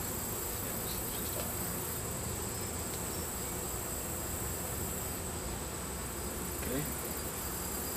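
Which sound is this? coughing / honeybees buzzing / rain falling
honeybees buzzing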